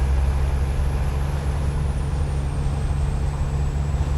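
Scania truck engine sounds in American Truck Simulator: a loud, steady low diesel drone with a constant whine above it, heard alone without a break.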